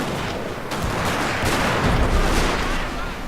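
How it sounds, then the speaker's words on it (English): French guards firing muskets in Shogun 2 Fall of Samurai make a dense, continuous crackle of massed gunfire. The volleys stay loud and steady throughout, with a few sharper reports standing out. "These are my French guards reloading calmly under fire and shooting."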